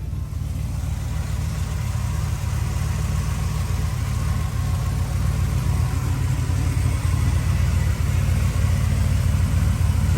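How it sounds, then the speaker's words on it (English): A lifted 1978 GMC Custom Deluxe truck engine idles steadily through Flowmaster 40 dual exhaust on 3-inch pipe, giving a deep, even, rumbling drone that stays close and constant with no voices. "And the engine sounds pretty good."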